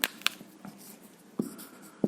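Writing numbers by hand during a school maths lesson, a few faint, close pen taps and short scratching strokes spaced across a quiet moment without speech.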